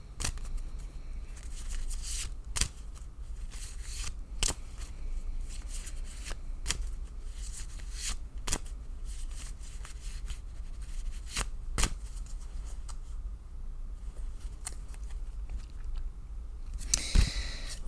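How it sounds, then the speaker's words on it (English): Tarot cards being shuffled repeatedly, crisp riffling bursts at a steady irregular rhythm, close and alone with no talking. "I'm going to shuffle until Spirit tells me to stop."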